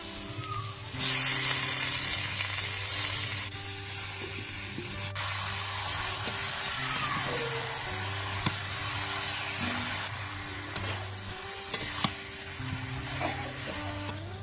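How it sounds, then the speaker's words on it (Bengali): Chicken pieces added to fried spice masala in a karahi sizzle and hiss steadily, a continuous frying sound with occasional clinks of a utensil against the pan, close and fairly loud. "মশলাটা কষানো হয়ে গেছে, এবার মাংসটা ছেড়ে দেবো।"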